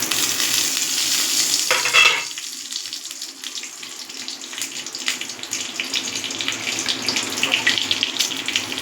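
Panch phoron, dried red chillies and bay leaves hit hot oil in a wok, bursting into a loud, steady sizzle that starts abruptly and continues with crackling throughout.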